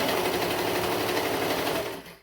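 Serger sewing machine stitching fabric for a high-low bell sleeve top, a fast, steady whirring buzz running continuously and close, then cutting off at the end.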